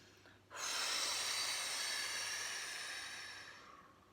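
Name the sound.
breathing in through the nose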